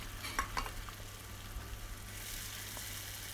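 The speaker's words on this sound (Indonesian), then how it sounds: "Biarkan dia sampai berbuih atau mendidih, lalu tambahkan air gulai daging." Beef curry broth for tonseng simmers in a pan with a low, steady bubbling hiss and a few soft clinks of stirring near the start, heard alone and fairly faint.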